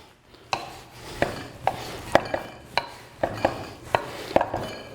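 A knife chops through fresh noodle dough for dumpling-style noodles, cutting it into big strips on a board: steady, close, sharp knocks about twice a second, with no talk.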